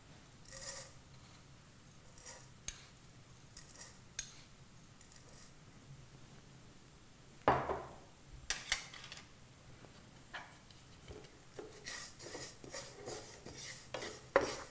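Fenugreek and cumin seeds dry-roasting in a pan with no oil, heard as soft scraping and rattling of a spoon stirring against the metal, with irregular louder scrapes and taps.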